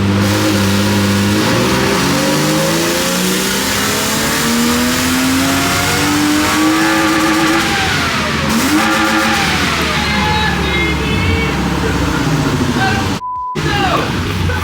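A Toyota Supra with a four-rotor engine under boost revs hard and loud, its pitch sweeping up and falling back between throttle blips in a shrill, race-car wail, with a sudden brief cut near the end.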